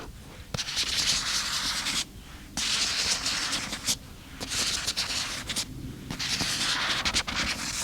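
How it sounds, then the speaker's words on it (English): Sticky fingertips rubbing and dragging across glossy book covers, close and intimate, with continuous soft friction broken by short pauses and brief squeaky contacts. No one talks. "the sticky finger sounds on books"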